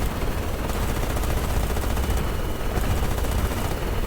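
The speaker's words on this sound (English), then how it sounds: "That's a lot of ground fire." Heavy ground fire rolls on in a video game island-capture battle, a dense, continuous wash of distant rapid gunfire and explosions with no pauses, steady and fairly loud, with no talking.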